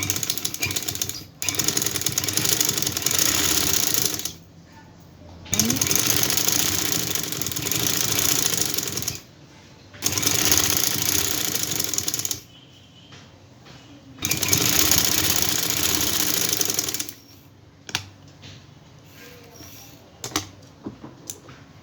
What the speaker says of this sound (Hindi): और इस पट्टी को हम इसके ऊपर ऐसे रखते हुए सिलाई लगाएंगे।